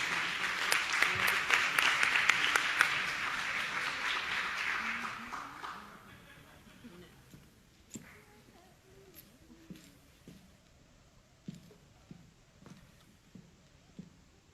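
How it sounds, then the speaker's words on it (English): Dense applause fills a board of education meeting for a student bowler, then fades after about six seconds into scattered claps, footsteps and quiet room murmur. "Let's give him a round of applause"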